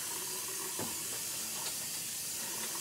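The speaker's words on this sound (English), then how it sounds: "Wash my hands so I can cook with the frying pan." Water runs from a kitchen tap while hands are washed before cooking, a soft, steady hiss and splash heard alone at low volume.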